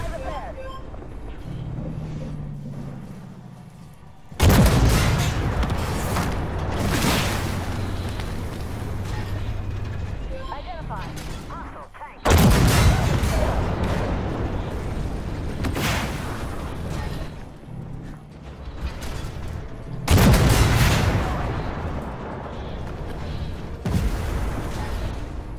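Heavy T-14 tank cannon blasts in a snowy winter tank game, three loud booming shots spaced several seconds apart, each a sudden broadband crack followed by a rumbling tail, with a player talking over the action.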